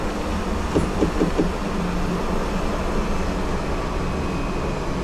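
Train from JR East Train Simulator on the Joban Line between Shinagawa and Katsuta, a steady rolling rumble with a quick run of clickety-clack wheel beats near the start and a low motor hum throughout, no talk.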